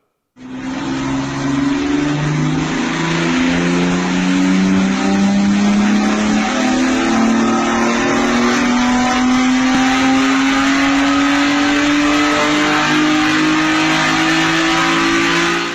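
A BMW E30 race car's 3.0-litre M20 straight-six runs hard on a rolling road, a loud, close, continuous drone whose pitch climbs steadily as the revs rise.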